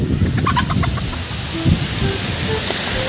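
Chickens cluck in short, scattered bursts against a steady hissing wind, fairly close, with a few higher chirps mixed in.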